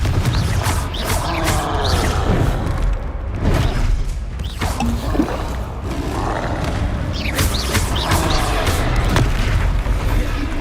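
Confringo fire-blast spell effects from the video game Hogwarts Legacy, heard as repeated booming bursts and crackling impacts within dense, continuous combat sound that stays loud across the whole stretch.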